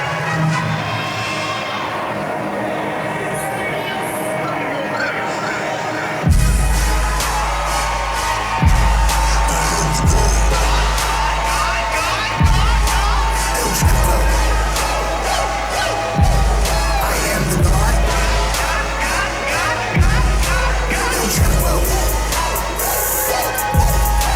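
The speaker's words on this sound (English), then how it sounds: "And listen to that ovation." A wrestling crowd at a CSW tag team event roars in ovation, a loud, sustained wall of cheering and shouting, punctuated by heavy booming music beats at regular intervals after the opening seconds.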